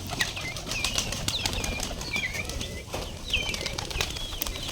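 Giribaz pigeons at a pigeon farm flapping their wings in busy, overlapping fluttering bursts nearby, with chirps and calls from other birds mixed in throughout.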